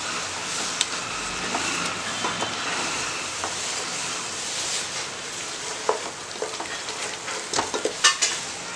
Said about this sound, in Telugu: మధ్యలో ఒకసారి మూత తీసుకొని కలుపుకుందాం.